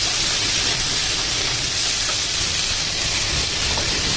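Vegetables sizzle and fry in hot oil in a home kitchen pan, with a steady, loud, dense crackling hiss running throughout without a break.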